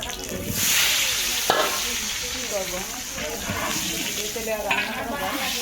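Potatoes dropped into hot frying oil sizzle and bubble steadily, a close, hissing crackle with occasional splashes, while people talk nearby.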